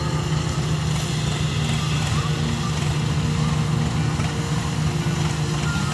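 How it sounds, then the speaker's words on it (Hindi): A Swaraj tractor engine runs during a harvest in Chhattisgarh, a constant low, throbbing drone with steady mechanical rumble throughout six seconds and faint voices in the background. "स्वराज की ट्रैक्टर है"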